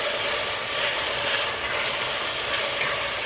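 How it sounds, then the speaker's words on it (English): Stirring a sizzling ragu with bay leaves and peas in a pan, a loud steady frying hiss with soft scraping movement mixed in, close and continuous with no talk. "Now we'll stir it all up."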